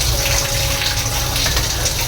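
Water poured out outdoors splashes and gushes steadily for a couple of seconds, loud and close, a continuous rushing pour.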